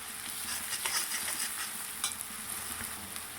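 Red chilli, turmeric and salt sizzle in oil in a pan, with a spoon scraping and stirring at intervals; a steady close crackle with occasional sharper clicks and no talking.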